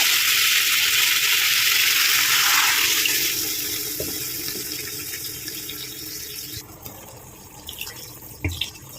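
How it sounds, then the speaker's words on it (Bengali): Water poured into a curry cooking in oil gives a loud, rushing, sizzling hiss that fades over several seconds into quieter bubbling, with a few small pot clinks near the end. "এবার আমি জল দিয়ে দেবো"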